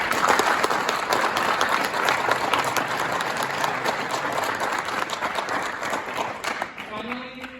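A crowd at a cross-country team speech event gives a sustained round of applause, dense and steady throughout before fading slightly near the end, with a voice starting to speak as it dies down.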